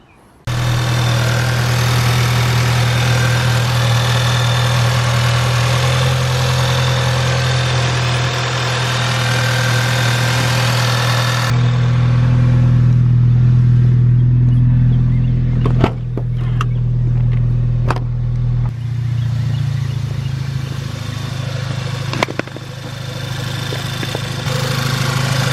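A VW 2.0T TSI engine cranks and fires up after an upper timing cover repair, then settles into a steady close idle with a deep hum, a brief revving swell midway and a few faint clicks and knocks.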